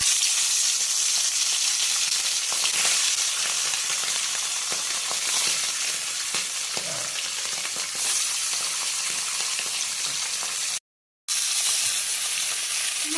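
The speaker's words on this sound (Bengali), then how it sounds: "তেল গরম হয়ে গেছে, এবার মাছ ভেজে নেওয়া হবে।" Pomfret fish fry in hot oil, giving a steady, close sizzle and crackle with a brief cut near the end.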